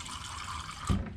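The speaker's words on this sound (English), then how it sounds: "And then I'm just gonna put water in this pumpkin can." Water pours briefly into an empty pumpkin can, a short hollow splash and fill heard close up in a home kitchen.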